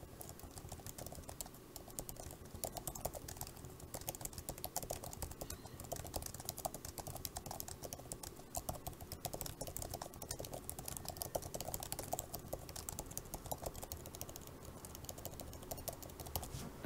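Steady run of quiet, rapid key clicks from typing on an Apple iPad Pro Magic Keyboard with backlit tactile keys, continuous and close with no talking.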